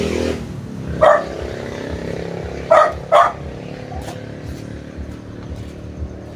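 A dog barks outdoors in a Philippine town, three sharp barks spaced about two seconds apart and the last two close together, over a running motorcycle or car engine rumble.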